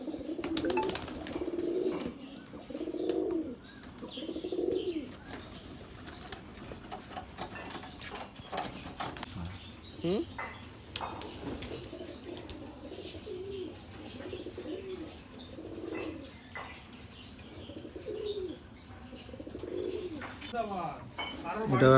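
Male Giribaj and Madras pigeons at a sale in Ichapur, West Bengal, cooing in repeated low rolling phrases close by, with shuffling, scratching and a faint voice in the background.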